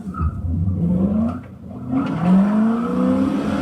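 A Mustang in an Xbox One racing game, played on a force-feedback wheel with pedals, revs loudly with rising and falling engine pitch sweeps and continuous whirring drive, with no talk.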